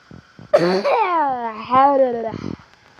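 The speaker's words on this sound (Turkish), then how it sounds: "Çok komik öksürdüm ha" A short burst of coughing and throat clearing runs into a drawn-out, wavering vocal sound, close and fairly loud, with quiet gaps at either end.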